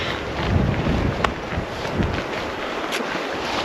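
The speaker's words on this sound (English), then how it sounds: "A little wind." Wind gusting across a ridge lake on a mountain hike, a steady broad rush with buffeting on the microphone and a couple of faint knocks, no voices.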